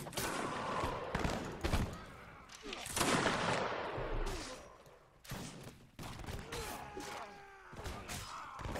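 Musket volleys crackle from a firing line in Mount and Blade, a Seven Years War battle, with dense overlapping gunshots, booming thuds and crashes filling the scene, loud and continuous with a brief lull midway.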